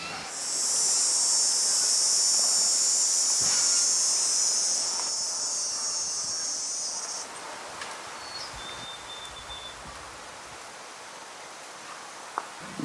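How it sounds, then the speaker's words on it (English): Cicadas at a warm evening campsite in a national park, a loud, steady high buzzing drone for several seconds that fades out, leaving quiet outdoor ambience with a faint brief chirp and a couple of small knocks. "the sounds of blue jays and cicadas greeted us as the warm evening closed in."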